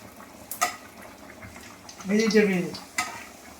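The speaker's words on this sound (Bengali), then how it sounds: "আর এখানে পাঁপড়গুলো সব ছোট ছোট করে ভেজে নিচ্ছি।" Small papad fries in hot oil in a pan, a short bubbling sizzle that swells briefly in the middle, with a few clinks of a utensil against the pan before and after.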